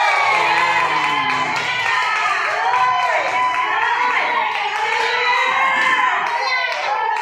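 A congregation in St Joseph chapel applauds and cheers after a choir event, a dense crowd of clapping mixed with excited shouting and children's voices, loud and continuous throughout.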